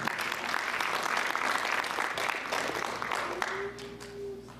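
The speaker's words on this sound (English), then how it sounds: "So, applause to all of you." An audience at a Diwali celebration breaks into broad, sustained applause that fills the room, easing slightly near the end as a faint tone and a voice come through.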